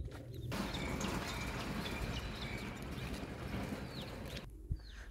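Birds chirp and call from trees over a dense, steady outdoor wash of sound, with short whistling calls scattered throughout and a sudden drop to quiet near the end.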